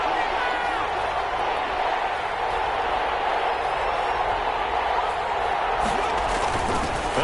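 Stadium crowd noise inside a domed arena during a PS4 football video game broadcast, a steady dense roar with no breaks that holds at a constant level throughout.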